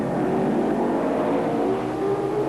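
1981 sports sedan race cars racing at Sandown, a loud continuous engine roar that drones steadily at close range with a slight rise and fall in pitch.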